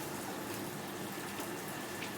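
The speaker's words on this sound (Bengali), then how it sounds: "আমরা এই যে দেখছেন পানিতে দিয়ে দিলাম" Water is poured into cattle feed at a cow farm, a steady gushing stream that stays close and continuous with no voices.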